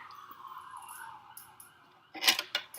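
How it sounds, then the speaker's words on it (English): Wailing emergency sirens rise and fall in the distance, then sharper high-pitched bursts cut in near the end, growing louder as they pass. "sirens. Maybe we should wait until these pass."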